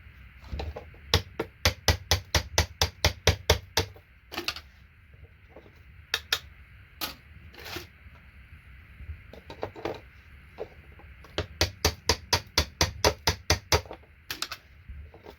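A chisel knocks SMD resistors off scrap e-waste circuit boards in rapid rows of sharp metallic taps, three close bursts of a dozen or so strikes each, with a few scattered single knocks between them.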